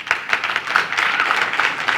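Audience clapping at a school quiz contest, the National Science and Maths Quiz preliminary stage, rising in scattered bursts into a steady patter of many hands for about two seconds.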